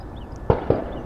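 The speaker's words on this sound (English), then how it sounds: "we got gunshots in the back from the shooting range" Two sharp gunshots from a nearby outdoor shooting range, heard at a distance about a fifth of a second apart over a quiet background with faint bird chirps.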